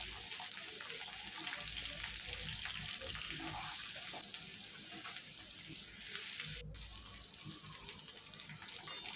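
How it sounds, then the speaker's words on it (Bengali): Pieces of raw jackfruit frying in hot oil for a curry, a steady bright sizzle with faint crackles and occasional stirring, continuous and close. "5 মিনিটের মতো ভেজে নেব।"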